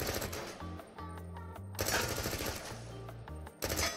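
Rapid full-auto bursts from an MP5A2 submachine gun in the VR game Into the Radius, a fast rattling stream of shots broken into several bursts over tonal background music.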